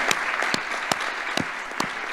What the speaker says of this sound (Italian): Grazie, un bel applauso ai nostri sponsor.